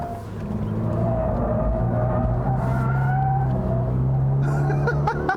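A 2022 Subaru BRZ sports car with a six-speed automatic drives on a course. Its engine holds a steady droning note that shifts in pitch as it works, with a rougher change near the end.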